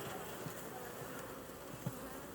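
A steady, dense insect hum of many honeybees droning together inside a 12-frame hive, close and continuous, with a couple of faint knocks.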